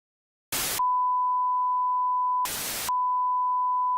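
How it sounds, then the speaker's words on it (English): An emergency alarm sounds a steady, unbroken electronic tone, cut twice by short bursts of hissing static, loud and constant throughout. "from the sound of the emergency alarm"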